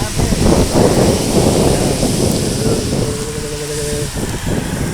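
Heavy rain pours during a motorcycle trip, with low thundery rumbles and wind buffeting the microphone, loud and close, while faint tonal sounds appear briefly toward the end.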